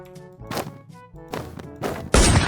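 Sniper rifle shots ring out in the blocky survival game Minecraft on a MineZ zombie-shooting server. Several sharp, close bursts break up a quieter stretch, and the last blast is the loudest and longest.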